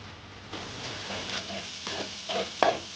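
Masala ground with almonds, cashews and dried coconut fries on high heat for a bochcha fish curry. Spoon scrapes and stirring strokes come in uneven bursts over a low sizzle, close by, with no speech.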